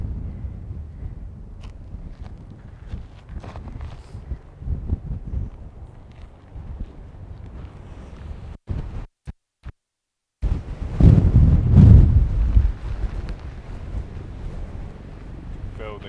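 Wind buffets a handheld camera gimbal outdoors amid scenery, a steady low roar with harsher gusts that drops out in brief gaps, then surges loudly again; no clear speech.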